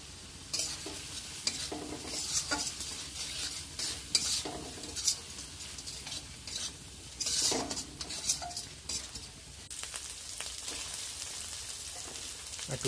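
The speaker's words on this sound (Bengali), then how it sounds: "শিলনোড়াতে বাটা মশলা দিয়ে ভালো করে কষিয়ে নিই" A stone-ground spice paste with turmeric and chili powder fries in a pan for rohu fish and potato curry, heard as a soft sizzle broken by repeated scraping, stirring strokes and clinks of a utensil against the pan.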